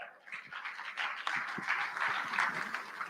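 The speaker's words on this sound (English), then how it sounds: "Big round of applause one more time." An audience at a talk claps in a short, moderately close burst of mixed hand claps, fairly quiet overall, with a few sharper individual claps in the mix.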